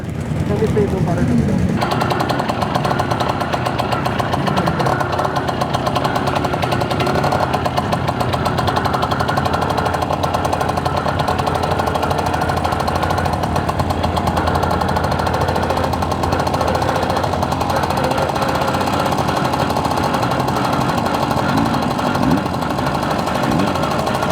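Romet T50 motorcycle engines running loud and close at the start of a Kraków MotoMikołaje ride, a steady rattling, knocking two-wheeler drone that continues throughout while a voice talks over it.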